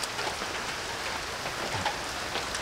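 Steady rain patters continuously in a forest, a dense soft hiss of drops with no voices.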